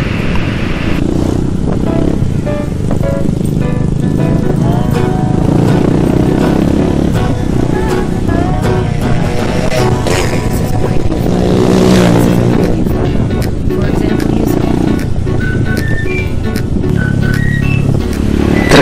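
A motorcycle being ridden and pushed hard, its engine droning steadily and loudly throughout with shifting revs and road noise, no talk over it.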